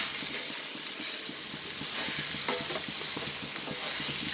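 Steady sizzling of mutton frying in a pan for mutton roast, with repeated scraping and stirring strokes of a wooden spatula throughout, close and continuous, no voices.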